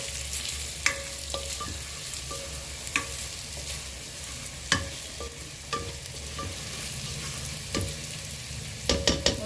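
Dried red chillies and crushed pepper sauté in a hot pan, a steady close sizzle punctuated by repeated spatula scrapes and taps.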